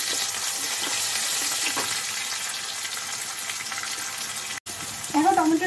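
Onion frying in a pan, a loud, steady hiss of sizzling oil that cuts out abruptly near the end, then resumes as someone briefly speaks over it.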